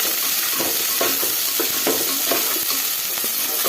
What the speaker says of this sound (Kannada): ಈರುಳ್ಳಿನ ಚೆನ್ನಾಗಿ ಈ ಥರ ಫ್ರೈ ಮಾಡ್ಕೊಳ್ಳೋಣ